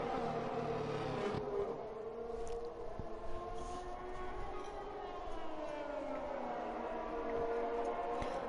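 Haas Formula 1 car from F1 2021 on a flying lap at the Austrian track, its engine a steady, loud high-pitched whine with gliding pitch shifts as revs rise and fall through gears, continuous throughout.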